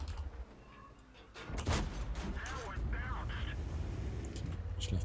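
A loud, booming cannon shot from a VK 30.02 D tank in World of Tanks, followed by rumbling battle noise with someone talking over it.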